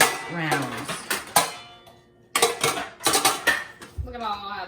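Metal springform cake pans clatter and scrape as they are handled in a lower kitchen cabinet, several sharp bright clanks in bursts with a quiet gap in the middle, then a softer rattle at the end.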